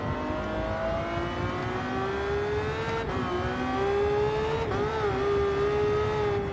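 A high-revving engine of a Gordon Murray car in Gran Turismo 7 wails continuously at full throttle near 8,000 RPM, pitch climbing and dipping briefly with gear changes, loud and synthetic-sounding.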